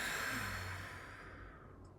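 A slow, soft exhaled breath during a guided breathing exercise, a single long airy sigh fading out, close and quiet.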